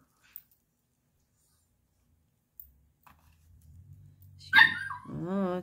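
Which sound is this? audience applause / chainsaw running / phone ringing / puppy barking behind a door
puppy barking behind a door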